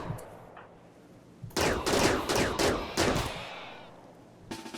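Rapid bursts of gunfire in the video game RimWorld, loud overlapping volleys firing in quick succession for a few seconds after a quieter stretch, then stopping before a final short burst.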